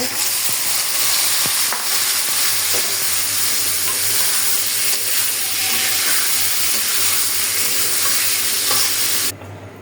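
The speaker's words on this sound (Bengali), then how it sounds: "আমি এখন মাখায়া তেলে ছেড়ে দিব" Spiced fish sizzles and fries in hot oil, a loud, continuous hiss and crackle that runs alone for several seconds before cutting off abruptly at the end.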